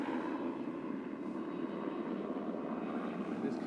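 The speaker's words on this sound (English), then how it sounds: "There's actually a helicopter up there right now." A military helicopter's steady low rotor rumble drones on continuously at a moderate distance overhead, with no talking.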